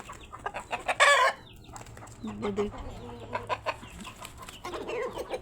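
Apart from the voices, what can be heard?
small rooster clucking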